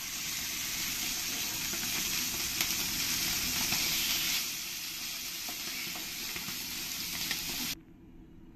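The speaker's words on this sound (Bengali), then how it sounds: "পরের মাছগুলো আমি এরকম একই রকম করে সব ভেজে নেব" Ribbonfish frying in a pan gives a continuous bright sizzle and spatter, loud and close, easing slightly midway and cutting off abruptly near the end; no talking.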